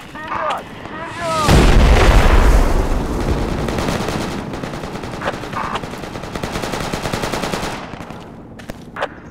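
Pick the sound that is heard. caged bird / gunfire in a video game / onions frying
gunfire in a video game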